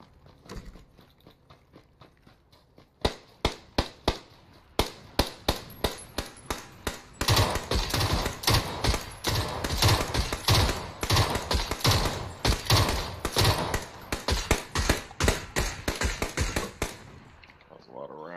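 Video game automatic weapon fire: long runs of rapid gunshots that start sparse, then build into a dense, loud, sustained burst before cutting off near the end.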